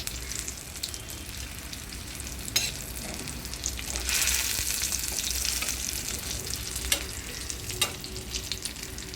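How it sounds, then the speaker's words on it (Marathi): Green chillies fry in oil for a sour-spicy chilli fry, giving a steady, soft sizzle with occasional stirring scrapes and crackles close by. No voices are heard. "हे बघा किती छान पैकी तळून होते।"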